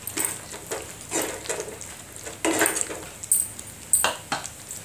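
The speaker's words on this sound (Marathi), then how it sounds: "छान असे आपण मिक्स करून घेऊया" A spoon stirring a peanut powder mixture in a metal pot, with irregular scraping and clinking knocks against the pot's side, some sharp metallic taps standing out.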